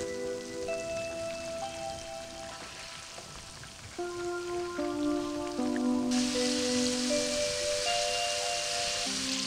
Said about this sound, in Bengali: এখন আমি চিকেনগুলোকে ভেজে নিব